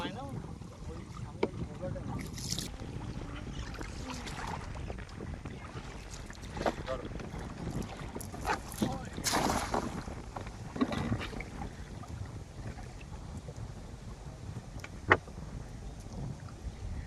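A rowing boat moves along the Gomor river in the Sundarbans, with a steady wash of water and wind buffeting the microphone throughout, plus a few faint knocks and splashes.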